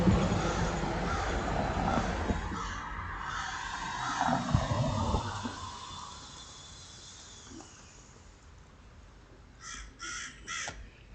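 Crows caw in short repeated bursts near the end, over a dense, noisy background that fades from loud to quieter.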